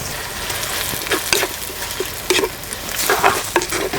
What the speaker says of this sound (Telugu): ఉల్లిపాయలు బాగా బ్రౌన్ కలర్ వచ్చే వరకు వేయించుకుందామండి